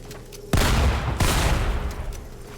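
Heavy spraying gunfire in the Fortnite video game, two loud bursts of rapid shots close together, each with a crackling tail.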